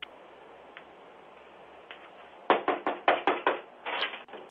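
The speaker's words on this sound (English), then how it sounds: "The footage shows a little girl holding a flashlight and knocking on the door of an unoccupied house in the middle of the night." At night a little girl knocks on the door of an empty house: a few faint taps, then a loud run of about six sharp knocks and a short flurry, picked up by a doorbell camera with a hissy background.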